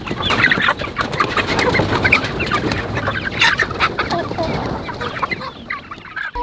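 A flock of chickens, just let out, clucks and squawks busily and loudly, close by, with overlapping calls and rustling hay throughout.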